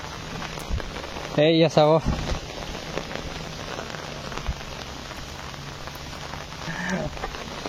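Heavy rain falls steadily throughout as a constant broadband hiss, with a person briefly speaking over it near the start.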